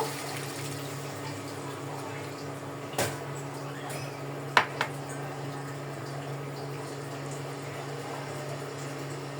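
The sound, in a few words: water poured into cooking masala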